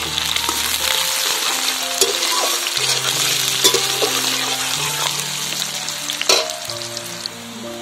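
Chopped onions and two dried red chillies fry in hot oil with black cumin seeds, producing a steady close sizzle with scattered crackles, pops and the scrape of stirring.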